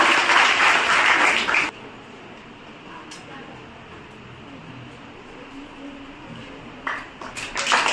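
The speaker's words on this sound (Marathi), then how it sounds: "सर्वांनी टाळ्या वाजवायच्या आहेत।" An audience at a high school Women's Day function claps during the lamp-lighting ceremony. The applause is loud at first, fades into a quieter stretch of background murmur and talk, and then picks up again.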